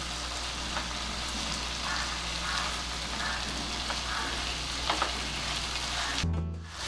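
Tomatoes cook for Spanish rice in a pan with a steady, moderate sizzle and occasional faint stirring scrapes, ending with a low clunk.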